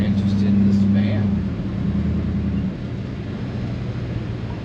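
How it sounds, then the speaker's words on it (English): An old Chevy van engine drones steadily from inside the cab while driving, a low rumbling hum that settles slightly lower partway through; a voice speaks over it early on. "it drives pretty good for an old beast van"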